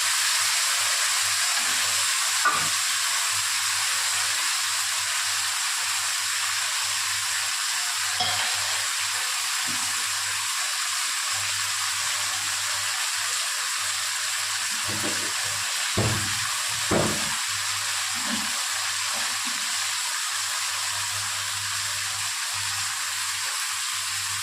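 Spice paste of ground cumin, ginger and chilli frying in oil for a thin fish curry, a steady soft sizzle with occasional stirring scrapes and clinks, no voices.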